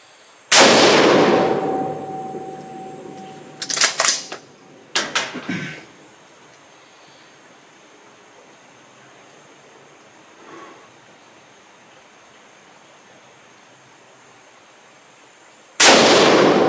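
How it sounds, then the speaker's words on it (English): Loud, close rifle shots from an MPR Mini chambered in .223 Remington, fired outdoors: one sharp crack with a long ringing tail, a pair of quick clanks or shots a few seconds later, then quiet before a final blast at the end. "The shots all felt relatively good"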